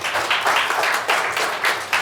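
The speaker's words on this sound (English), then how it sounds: "All right, round of applause." An audience applauds in a brief, dense burst of many hands clapping, loud and continuous with slight swells, and no voices are heard over it.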